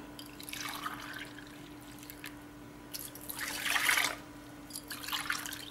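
Beetroot juice pours into water in a container in a few separate bursts, trickling and splashing, with a steady low hum beneath.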